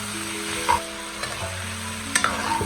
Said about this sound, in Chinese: 这里我们要不停的翻炒，使每一块鸡肉都受热均匀